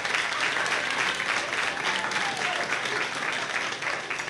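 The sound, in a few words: audience clapping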